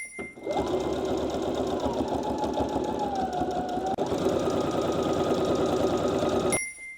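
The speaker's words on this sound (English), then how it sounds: "This is the first time I've ever touched a sewing machine." A sewing machine runs a continuous stitching burst on homemade clothing, its fast mechanical whir starting abruptly, holding steady for about six seconds and then stopping, loud and close.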